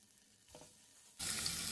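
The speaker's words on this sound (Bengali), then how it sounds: "চুলা লো ফ্লেমে রেখে ডিমগুলো হালকা লালচে করে ফ্রাই" Eggs drop into hot oil in a pan and begin to sizzle, a brief soft rustle giving way to a sudden loud, steady hiss of frying close up.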